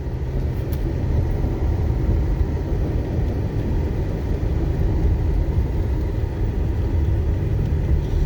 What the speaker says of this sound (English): So we're in the Jeep Cherokee right now.